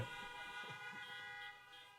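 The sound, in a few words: car horn honking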